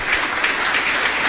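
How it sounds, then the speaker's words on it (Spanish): A congregation applauds for Jesus at Mass in San Miguel chapel in Luque, producing a steady, dense wash of clapping hands that fills the short moment without any talk. "Un fuerte aplauso para Jesús, que es la divina misericordia."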